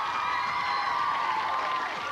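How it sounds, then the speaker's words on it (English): A crowd cheers and applauds continuously, a dense wash of claps, whoops and shouting that holds steady throughout. "Give him a round of applause, folks."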